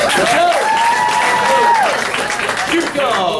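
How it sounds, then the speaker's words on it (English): Applause from a crowd at a July 2018 graduation, steady and close throughout, mixed with a loud voice whose tones slide up and down as if calling out or singing. "Give him a round of applause."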